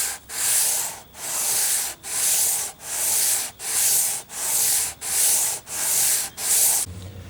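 Steady back-and-forth sanding on the wood of a nylon-string acoustic guitar under construction, about ten rhythmic abrasive strokes, close and fairly loud, with no talking.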